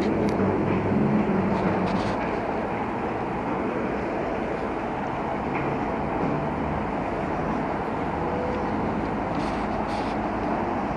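A train idles and pulls out of Paignton station in Devon, a steady loud rumble of engine and wheels holding throughout with no voices over it.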